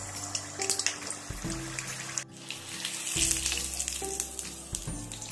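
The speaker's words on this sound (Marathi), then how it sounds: "अशा पद्धतीने आपण चिकनचे गोळे तयार करून घेऊया आणि तळून घेऊ।" Chicken balls frying in hot oil, a steady crackling sizzle with occasional clinks and scrapes from a utensil, close and moderately loud with no talking.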